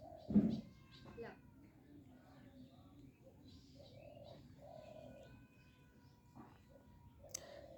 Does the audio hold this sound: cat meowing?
yes